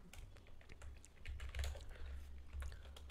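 Quick, light clicking of keys on a computer keyboard while entering Python code, a continuous patter of taps at close range with no talking.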